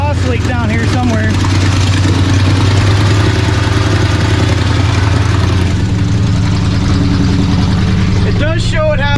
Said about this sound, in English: Definitely got an exhaust leak down here somewhere.